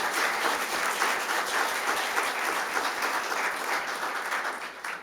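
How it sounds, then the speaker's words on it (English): A crowd at a fire department awards ceremony claps steadily and fairly loudly, a continuous wash of many hands with no talk over it. "So round of applause for Melissa."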